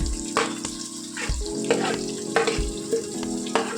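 Sliced onions sizzle in hot oil with cinnamon sticks, cloves and curry leaves for a Chettinad-style meal maker rice, a steady crackling fry broken by scraping stir strokes, close and without talk.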